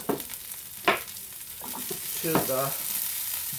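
Broccoli hits warm olive oil in a pan and crackles into a steady close sizzle, with a few brief spoken words and clattering stirs on top.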